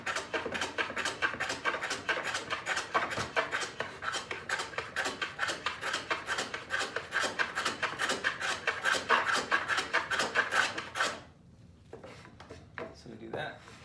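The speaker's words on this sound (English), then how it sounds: "What I'm doing now is I'm just kind of cutting a little relief on the backside" A blade cuts a small relief into the back of wood trim, giving fast, close, rhythmic rasping strokes that stop abruptly near the end, followed by a few faint knocks.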